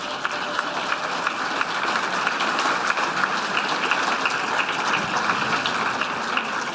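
Sustained audience applause at a political seminar, a dense, steady wash of many hands clapping that continues evenly throughout, with faint crowd murmur underneath.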